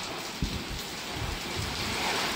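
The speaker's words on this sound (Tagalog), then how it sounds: "Pakita ko lang yung ulan. Ulan na malakas." Heavy rain pours down during a flood in Zhuhai, China, a dense, steady hiss of water hitting surfaces with a soft thump near the start, loud and unbroken with no voices.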